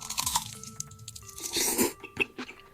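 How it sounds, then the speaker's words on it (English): Close, loud crunching and chewing of crispy fried chicken, AI-generated mukbang-style, with irregular bites and munching sounds, no talking. "This is me eating chicken that doesn't even exist, and it sounds like an actual mukbang channel"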